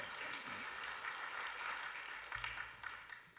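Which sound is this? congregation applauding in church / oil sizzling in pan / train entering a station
congregation applauding in church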